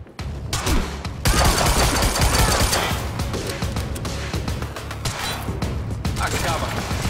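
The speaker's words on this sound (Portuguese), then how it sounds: "Por que a Monarch tá atirando pra gente?" Soldiers of the Monarch force open fire in the Quantum Break video game: a loud, sustained volley of rapid automatic gunshots and fusillade that continues throughout, with voices speaking intermittently over the shooting.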